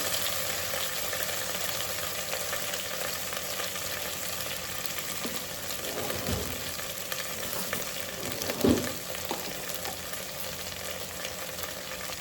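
Ginger garlic paste fries in a pan, giving a continuous even sizzle with a couple of soft stirring knocks near the end.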